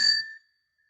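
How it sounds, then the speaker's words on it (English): A single bright bell ding rings out close and clear, then fades away within half a second into silence. "and I ring the bell"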